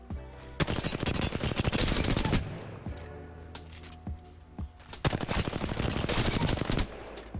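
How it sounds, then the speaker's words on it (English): Rapid hip-fire gunfire bursts during a slide in Apex Legends, loud, dense automatic rattles in several bursts separated by short gaps, with no talking over them. "Now with the slide hip firing, we're just going to slide in here and try to melt our enemies like so"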